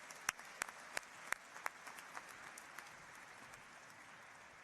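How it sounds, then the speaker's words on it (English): Scattered hand claps from an audience at a university Founder's Day convocation, a few sharp claps up front thinning into a faint, fading patter. "Let's give him another round of applause."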